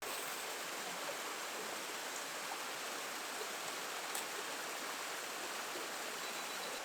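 A waterfall and stream in Padley Gorge rush steadily, giving a continuous, even hiss of flowing water with no other sounds over it.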